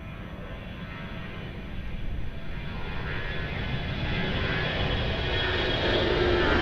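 An airliner takes off at Lisbon Airport with a broad, steady roar that builds gradually in loudness as the engines spool up and the plane rolls. No other sounds intrude.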